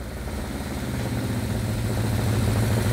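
A vintage Honda CB350F four-cylinder motorcycle idles with a steady, throbbing low rumble that swells slightly louder over a few seconds, close by and without talk.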